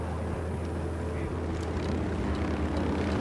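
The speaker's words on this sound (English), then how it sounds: "Helicopter incoming." A helicopter approaches in the Ghost Recon Wildlands video game, its engine and rotor making a steady, loud, continuous roar that holds for the whole stretch with no break.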